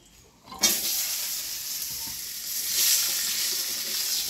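Potatoes dropped into hot oil tempered with radhuni spice seeds burst into a loud, steady sizzle after a brief quiet start, hissing continuously without any talk.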